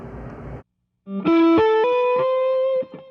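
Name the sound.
electric guitar through fuzz drive pedal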